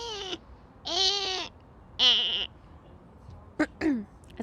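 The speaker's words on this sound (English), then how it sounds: "It's a goat." Goat bleating in several loud, close, quavering calls, three longer cries followed by two short ones, standing alone against a quiet background.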